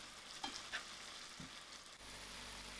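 Tomatoes with salt cooking in a pan give a faint, steady sizzle, with a couple of light utensil taps or stirs, and the frying hiss grows slightly denser toward the end.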